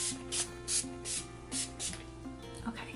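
Six or so short, sharp spritzes from an Urban Decay All Nighter setting spray bottle misted onto a face, spaced fairly evenly and close by, each a quick airy hiss.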